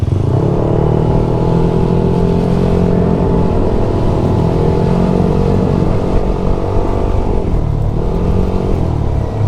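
A Lanselot motorcycle rebuilt to 195cc rides at a relaxed pace while the engine is being broken in, giving a continuous loud engine drone with gentle rises and falls in pitch.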